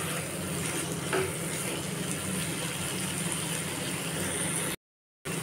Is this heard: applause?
no